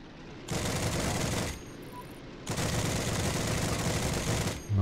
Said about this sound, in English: Nice little kill with the machine gun there.